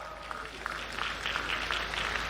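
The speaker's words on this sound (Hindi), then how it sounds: "तालियां तो बजाओ।" An audience at a farm women's empowerment event gives steady, moderately loud applause that fills the hall with continuous clapping and crowd murmur.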